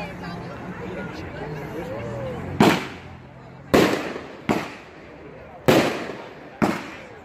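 Rock and Raptor firework cake firing its shots at a demo night, five sharp booming bursts spaced about a second apart outdoors, with crowd chatter and talk underneath.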